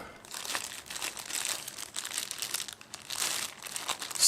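A plastic bag crinkles and rustles continuously while being handled during the unboxing of a Spyderco Paramilitary 2 knife, close and fairly loud, with bursts of crumpling throughout.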